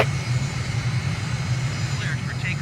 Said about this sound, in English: Cleared for takeoff, runway 23 right